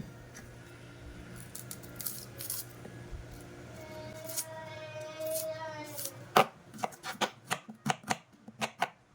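A knife chops onion on a board in a home kitchen: quieter kitchen noise gives way to a quick run of sharp, close, evenly spaced chops over the last few seconds, with no talking.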